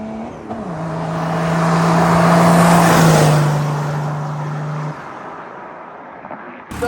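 Turbocharged Mercedes OM603 diesel car launching hard, a loud engine roar swelling as it accelerates with a rising whine, then fading away after a few seconds.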